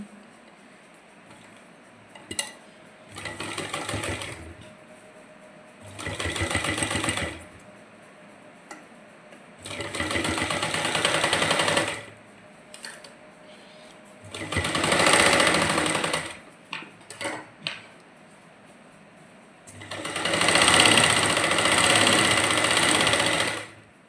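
A sewing machine stitches a salwar in five separate runs of a few seconds each, loud and close, with quiet pauses between them that hold faint ticks and handling of the cloth.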